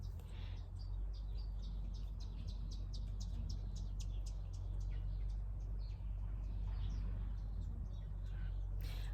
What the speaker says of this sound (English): Got lovely parrots in the apple tree over there. They're eating off the bird feeder.